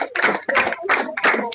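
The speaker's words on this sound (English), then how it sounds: "clap" A classroom of students claps in rhythm, in about five quick bursts separated by short pauses. The claps are loud and close, with no talking over them.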